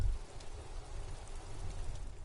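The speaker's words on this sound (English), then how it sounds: "All around you, rain falls on the spring thaw" Rain falling during the spring thaw in the game Disco Elysium, a soft, steady, faint hiss of drops with no distinct impacts and no speech.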